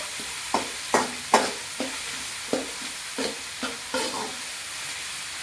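Mustard seeds and fenugreek spluttering in hot oil for a sardine curry, a soft hiss punctuated by repeated sharp crackles and pops every half second or so, close and unaccompanied by voices.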